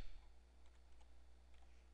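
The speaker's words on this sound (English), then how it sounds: "then we'll type in" Typing on a computer keyboard: faint, quick clusters of soft key clicks at a low level.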